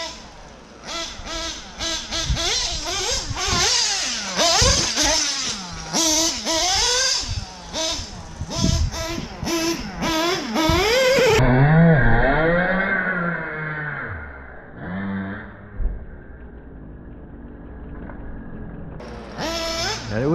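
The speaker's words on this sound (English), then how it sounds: "Badass little engine, man." A modified nitro RC buggy engine screams through rapid, high-pitched revs that rise and fall quickly, then drops to a thinner, wavering buzz before a final burst of throttle at the end.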